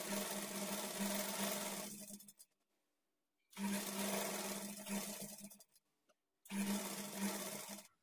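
A sewing machine stitches a folded quarter-inch edge on a lined blouse piece in three sustained runs, each steady and close, separated by short pauses.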